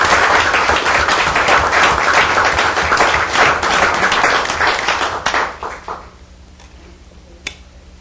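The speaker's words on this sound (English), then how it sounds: "We do need a round of applause." At a city council meeting, the chamber audience gives a round of applause, full and close for about five seconds, then tapering to a few scattered claps and quiet room tone.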